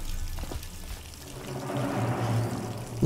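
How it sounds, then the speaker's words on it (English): Water pours steadily in the video game Dishonored, a continuous splashing flow that swells slightly toward the end, heard on its own without talk. "the water effect is cool"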